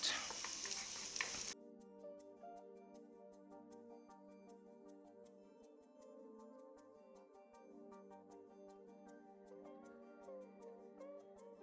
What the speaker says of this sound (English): I'm going to go ahead and take this opportunity to add in my garlic and shallot